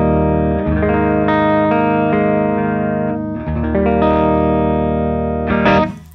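Electric guitar driven through a Zorg Blow pedal into a Marshall Origin 50 amp and Two Notes Torpedo with an open-back Rev 4x12 cabinet, playing loud distorted sustained chords that ring and change several times, alone without talk.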